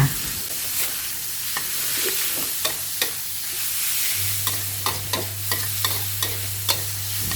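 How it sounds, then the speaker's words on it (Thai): Steady frying sizzle with repeated scraping clicks of a spatula stir-frying minced pork in a pan, a low hum underneath. "ผัดจนหมูสุกค่ะ"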